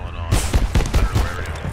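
Rapid gunfire bursts from enemies in Abiotic Factor, several sharp shots in quick succession against a steady game background, loud and close.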